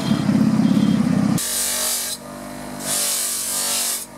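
A street knife sharpener works a blade on a grinder in a Turkish town: a harsh rubbing buzz gives way to two long, bright, hissing grinding passes separated by a short pause, loud and close.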